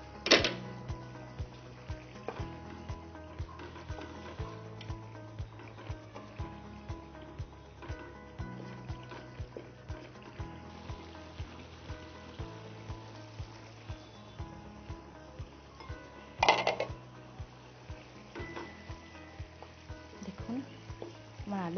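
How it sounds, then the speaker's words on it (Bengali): Green jackfruit and potato curry simmers in a covered pot with a soft steady bubbling. Faint clicks recur under it, and one louder clatter comes near the end. "এবার আমি আরো কিছুক্ষণ এটাকে ফুটতে দেবো।"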